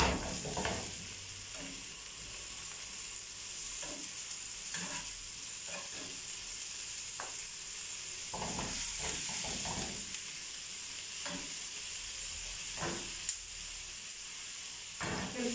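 Sausage and onions fry in a pan while a utensil stirs them, giving a continuous sizzling hiss punctuated by irregular scraping clicks and knocks against the pan.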